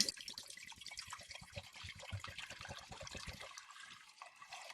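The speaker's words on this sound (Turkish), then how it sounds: "Önce şarabı döküyorum." Red wine poured into a pot for mulled wine, a soft continuous liquid splash and trickle close by, fairly quiet, with no voices.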